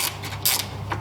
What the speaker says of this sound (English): just loosen up this coolant temperature sensor from here